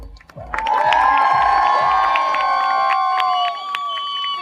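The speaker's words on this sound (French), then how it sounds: "Applaudissements pour la première place." A festival crowd cheers and applauds the first-place winner of a giant-food eating contest, a loud burst of whoops and shouting that swells at once and holds, with scattered claps through it.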